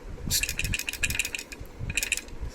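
Light metallic rattling and clicking in short bursts as a loose motorcycle LED light is shaken by hand, close up.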